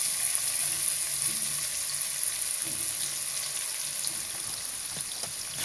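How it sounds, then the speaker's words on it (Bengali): Half a cup of chopped onion fries in spiced oil for haleem, making a steady, bright, close sizzle with faint stirring knocks and no voices. "এখন দিয়া দিমু 1/2 কাপ পেঁয়াজ কুচি"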